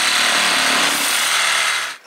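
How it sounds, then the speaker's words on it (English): A Sawzall reciprocating saw cuts steadily during prep work on a Turbo S X3 side-by-side, giving a loud, continuous, harsh buzz for about two seconds before it stops abruptly. "We have some freaking Sawzall."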